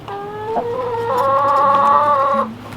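Hens cluck and squawk loudly and close by in a farm chicken yard, one drawn-out complaining call running for about two seconds, with no talk.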